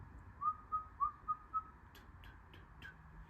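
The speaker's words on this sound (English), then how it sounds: "make a small amount of air coming out. You see? Like you're whistling." A person whistles a short run of five soft, breathy notes, followed by a few faint clicks in a quiet room.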